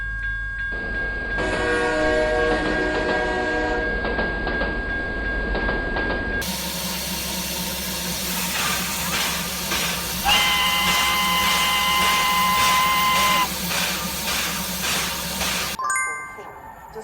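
A train passes close and loud with a sustained multi-tone horn, a heavy rolling rumble of rail cars and a hissing steam-like wash, the horn blasts changing pitch partway through before cutting off abruptly near the end.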